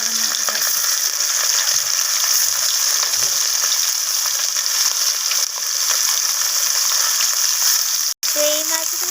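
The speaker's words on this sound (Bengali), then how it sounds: "তো এইভাবে আমি বাকি মাছগুলোকেও ভেজে নেব।" Small mourola fish fry in hot oil with a loud, continuous crackling sizzle, close and steady throughout, with faint clinks of a utensil and a brief cutout near the end.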